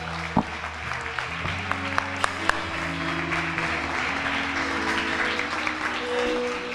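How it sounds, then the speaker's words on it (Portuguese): A church congregation applauding during a service, a sustained wash of clapping from a crowd that carries on steadily throughout, with a few sharp claps standing out near the start and a faint voice beneath. "dê uma linda salva de palmas para o Senhor Jesus nessa noite"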